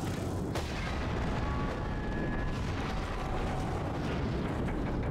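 Just Cause 3 video game explosions, a continuous heavy rumbling roar with a sharp blast near the start, loud and dense throughout.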